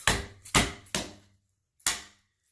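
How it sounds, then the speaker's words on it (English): A hammer taps a glide onto a swivel wand: four sharp, close knocks, the first three in quick succession about half a second apart, then a pause before a single final strike. "You need to do it with a hammer"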